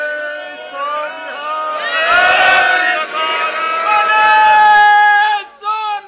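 A congregation shouts a Sikh jaikara together, a loud, sustained mass of many voices that swells in the middle and breaks off briefly near the end before one more short burst.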